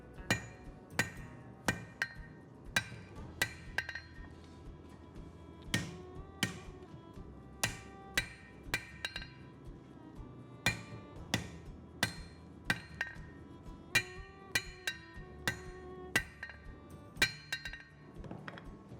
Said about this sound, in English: Run this under the hammer.